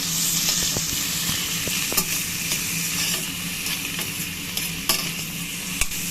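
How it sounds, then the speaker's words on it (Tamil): Cashew nuts and chopped onion fry steadily in hot oil, a dense continuous sizzle with occasional stirring clinks and scrapes, close and alone without talk. "நல்லா கேஷ்யூ நட் வந்து கோல்டன் ப்ரௌன் வரணும். இந்த பொட்டேட்டோவையுமே அதோடு சேர்த்து நல்லா ஆயிலில் ஃப்ரை பண்ணிக்கணும்."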